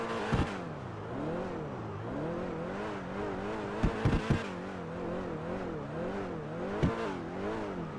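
The engine of a Cheetah Classic sports car from GTA 5 Online hums and revs in repeated rising and falling waves, with a few sharp clicks in between, close and alone.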